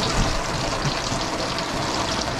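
Water runs and trickles steadily beneath a motorhome, leaking from under the vehicle through a torn rubber seal; a dense, continuous wash of flowing water, close and fairly loud, with no talking.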